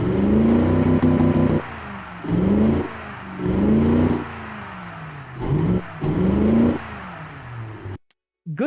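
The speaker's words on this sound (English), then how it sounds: "Let's fire up this big engine." A big 8.3 liter V8 engine runs loud and close, revving in repeated swelling bursts with short dips between them, then cutting off abruptly near the end.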